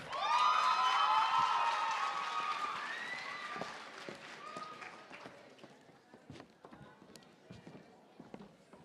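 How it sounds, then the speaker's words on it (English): Applause and cheering for Latoya rise from a summit audience over a tonal musical sound at the start, then thin out into scattered claps and movement as the room quiets. "Can we please give a round of applause to Latoya?"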